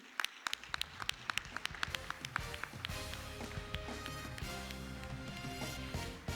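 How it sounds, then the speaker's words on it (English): Audience at an awards show starting a round of applause, first a few scattered sharp claps, then a dense, sustained clapping crowd with musical tones mixed underneath. "let's have a huge round of applause for Anthony"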